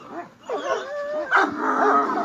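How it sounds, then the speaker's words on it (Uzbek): Dogs make a quick run of whimpers, yips and short barks at close range, rising and falling in pitch over about two seconds. "Itlardan ko'pi bormi mana?"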